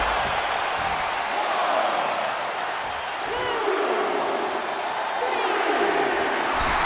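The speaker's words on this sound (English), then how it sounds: "The crowd is behind Teagan, and she knows it." Crowd noise from a WWE 2K25 wrestling video game match, a broad steady roar of cheering arena fans with swelling shouts, heard as continuous wash under commentary voices.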